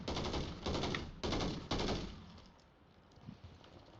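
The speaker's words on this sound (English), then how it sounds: "Taking effective fire!" Bursts of rapid gunfire from the video game Warzone 3, several loud close volleys in the first two seconds, then tapering to quieter distant shots.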